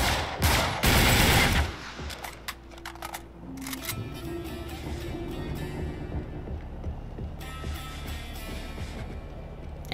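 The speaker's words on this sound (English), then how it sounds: "I hear shooting." Uncharted 3 gunfire crackles in a dense, loud burst of rapid shots at the start, then drops to scattered distant pops and clicks over a low rumbling background.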